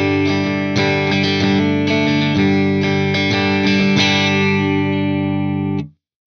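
A PRS electric guitar played through a Brit JM45 amp model with a JFET compressor and cab 848 rings out distorted chords, struck repeatedly with sustained ringing between hits, loud and close, before cutting off abruptly near the end.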